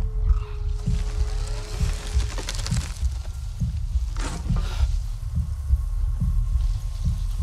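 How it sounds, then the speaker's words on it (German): Steady thumping heartbeat from the video game Avatar: Frontiers of Pandora, loud and close in a regular double-pulse rhythm over a low hum, with faint game ambience around it. "Unser Herzschlag wird auch lauter."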